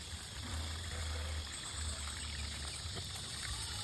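Water trickles weakly from a clogged tap with low pressure, a steady, close hiss of thin flow over a faint low hum, with no voices.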